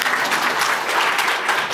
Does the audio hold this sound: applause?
yes